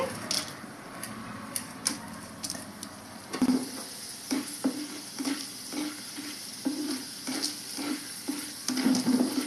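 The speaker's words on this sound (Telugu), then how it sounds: "సిమ్లో పెట్టి వేయించుకోవాలండి అన్నీ నిదానంగా" Urad dal and spices slow-roasting in a pan over low heat for curry leaf powder, with a soft steady crackle and repeated light scraping and stirring taps at an uneven rhythm, close by.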